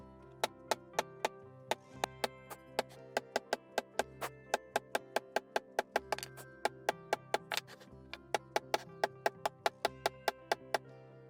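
A metal hole punch strikes leather repeatedly while holes are made for a triangular leather box bag, giving sharp, evenly spaced tapping knocks in a steady rhythm, close and clear, about forty hits with no talk.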